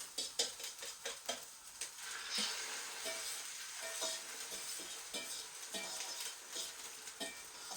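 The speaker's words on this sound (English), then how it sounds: "we're going to just fry the onions together, and then we add in our beaten eggs" Onions and beaten eggs for egg fried rice sizzle and crackle in a pan while being stirred, a faint, busy frying hiss with small repeated scrapes throughout.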